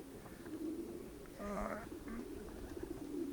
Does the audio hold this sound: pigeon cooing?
yes